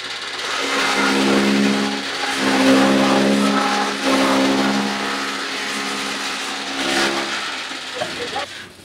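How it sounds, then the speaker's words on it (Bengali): A conveyor-type straw cutting machine running on a farm, a loud steady mechanical whir and hum with grinding and hissing texture, continuous and close, with small surges in intensity as material feeds through. "এখন যেটা আপনাদেরকে দেখাবো এটা কনভেয়ার সিস্টেম খড়"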